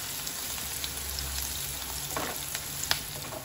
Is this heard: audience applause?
no